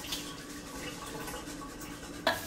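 Water running from a tap while food is rinsed for a chickpea frittata, a steady, fairly quiet trickling wash ending in a short clatter.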